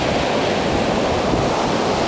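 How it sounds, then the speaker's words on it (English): Ocean surf breaks on the beach at LaPush, a continuous broad roar of crashing and washing water mixed with some wind buffeting on the microphone, loud and unbroken for the whole stretch. "nice wave action"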